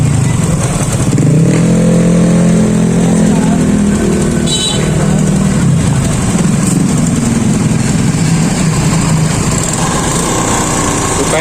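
A motorcycle engine idles steadily and loudly up close, a continuous rumbling drone with a voice talking over it.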